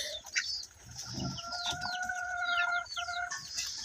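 A hen clucks repeatedly beside a freshly laid egg in a farmyard shared with ducks, drawn-out cackling calls close by and fairly loud over faint background noise.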